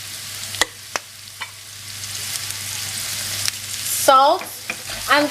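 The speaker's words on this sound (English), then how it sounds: "So I'm going to allow the onion to saute for a few minutes" Zucchini and onion sautéing together in a pan, seasoned with black pepper and salt, give a steady close sizzle with occasional stirring knocks and scrapes, plus a few brief clinks near the end.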